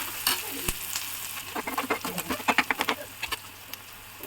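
Cluster beans frying in a pan, a bright crackling sizzle with a quick run of scraping, clattering stirs in the middle that thin out to occasional taps.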